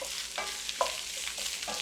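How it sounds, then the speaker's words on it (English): Hibachi-style beef sizzles steadily on a hot grill, a soft constant hiss with a few faint clicks and scrapes, no talking. "You're gonna get a little sizzle."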